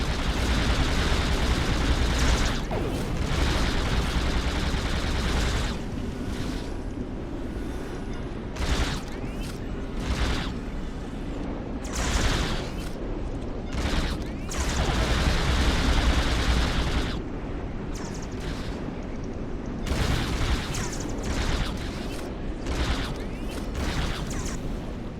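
Weapons fire during a space battle in a Star Trek: Deep Space Nine episode, with loud, continuous blasts and rumbling bursts in waves, dropping briefly between heavy barrages.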